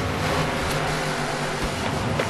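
Race car engine in NASCAR The Game 2011 at Auto Club, a steady loud broadband roar as cars pass close by, holding an even level throughout without any break.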